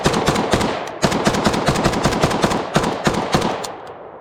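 Rapid semi-automatic shots from a KUSA KR-103SF AK-pattern rifle, a steady string of loud, sharp cracks in quick succession with a brief pause near one second, then the reports trail off toward the end.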